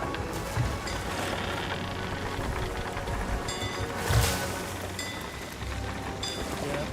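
In a video game, rain falls as a steady hiss of drops on surfaces, with a louder gust or splash partway through. The sound is moderately loud and continuous, and no one is talking.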